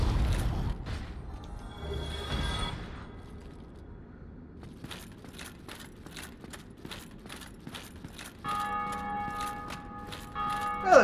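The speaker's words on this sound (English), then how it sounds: "You can still hear people ringing the bells of awakening online." Bell of Awakening ringing in the Dark Souls Remastered video game, a series of struck metallic chimes in a regular rhythm alongside other game sounds, fairly quiet and without talking.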